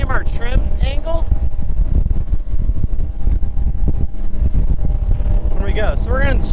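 A Bennington 24SX TriToon pontoon boat running at about 40 over choppy water, a loud constant engine roar with wind buffeting and hull slap, and someone talking over it.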